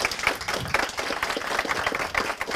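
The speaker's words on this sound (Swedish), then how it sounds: "Vi tackar talarna med en varm applåd" Audience at a cybersecurity networking meetup claps to thank the speakers, a brief, fairly faint patter of many hands in an indoor room.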